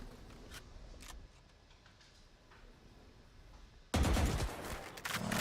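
Gunfire trading back and forth in a Valorant pro match, scattered light shots and clicks at first, then a sudden loud burst of dense fire near the end.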